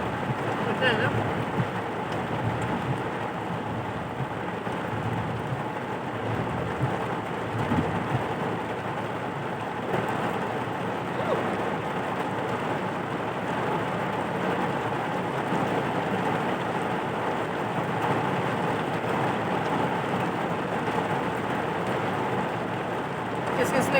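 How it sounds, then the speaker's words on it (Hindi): Heavy rain pours down in a dense, unbroken hiss at moderate loudness, falling behind people eating golgappe outdoors at a roadside stall, with no clear thunder rumble standing out. "देखिए बहुत ज़्यादा बारिश हो रही है हमारे पीछे"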